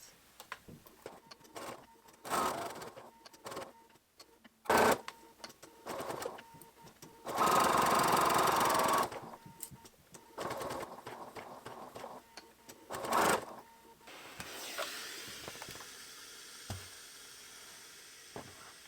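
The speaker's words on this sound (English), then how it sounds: "you're just going to sew down to this dot, back stitch, and then sew from this dot, back stitch down to the bottom" A home sewing machine stitches a skirt seam with backstitching, running in short whirring bursts separated by pauses, with one longer steady run in the middle, faint and close.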